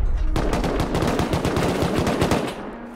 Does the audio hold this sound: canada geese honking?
no